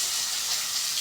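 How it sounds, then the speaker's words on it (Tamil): Chopped tomatoes sautéing in a hot pan for egg fried rice, a steady, dense sizzle and crackle of frying that stays close and even throughout, with no talking. "இப்போ கட் பண்ணி வச்சுருந்த தக்காளி போட்டு நல்லா வதக்கிக்கலாம்."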